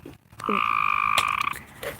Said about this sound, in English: Yes, we do hear the frogs.